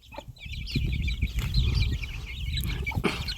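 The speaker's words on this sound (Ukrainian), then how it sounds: "Півник бентамочки." A bantam rooster clucks and chatters continuously in short, busy bursts, close by, with a low rustling underneath.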